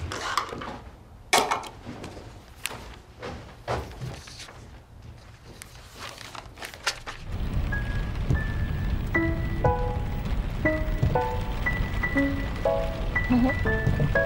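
Rain falls steadily on Valentine's Day, starting as a dense, loud broadband hiss about halfway through after a run of sharp footstep-like clicks, with a soft musical tone playing over the downpour.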